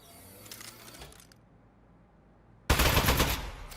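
In the video game Aperture Desk Job, a gun fires: faint clicking and rattling come first, then a near-silent gap, then a sudden loud burst of rapid gunfire that slowly fades.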